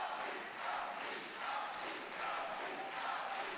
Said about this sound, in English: Nasri Amin being cheered by the crowd